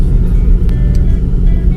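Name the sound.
car driving on the road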